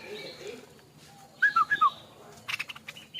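A person whistles a few short, bright, warbling notes that imitate a stripe-throated bulbul fledgling's call, over faint background noise and rustling.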